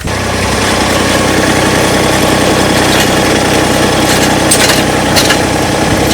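A Massey Ferguson GC1723E compact tractor engine runs loud and close, a steady rattling diesel drone that holds level throughout without speech.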